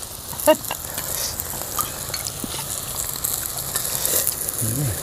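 Steady crackling sizzle of pork frying on a hot moo kata grill pan outdoors amid rice fields, continuous and close, with a few clinks and a brief low voice near the end.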